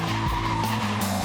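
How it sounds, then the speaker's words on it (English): Car tires squeal loudly and continuously while drifting in a slalom through traffic, a near, sustained skid with a wavering pitch over engine noise. "to be able to go out there and slalom drift through traffic"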